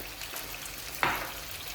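Onions softening in a pan with white pepper and spices, a steady close sizzle under a brief sharper hiss as something is stirred or added partway through, no talking.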